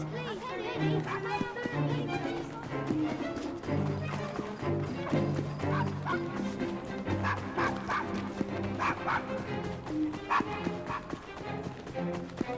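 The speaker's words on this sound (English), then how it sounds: "Quiet! Bad dog!" Dog barking in Assassin's Creed Syndicate, sharp repeated barks over busy game music, steady and fairly loud throughout.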